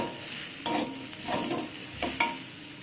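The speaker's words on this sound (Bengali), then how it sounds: "দিয়ে আবারও সব কিছুকে ভালো করে মিশিয়ে নেব।" Water spinach being stirred in a pan with turmeric and chili powder, three or four scraping strokes over a soft sizzle, with no voices.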